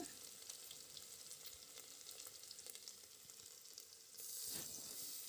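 Ginger-garlic paste frying on a low flame for khichdi, a faint, steady sizzle with light crackles that swells louder near the end, close up and without voices.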